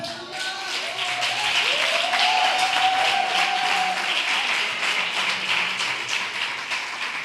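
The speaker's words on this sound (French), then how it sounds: "J'aimerais qu'on acclame les femmes." A church congregation applauds and cheers during a French-language Easter sermon, a sustained wash of clapping mixed with crowd voices and a rising cheer, loud and steady throughout.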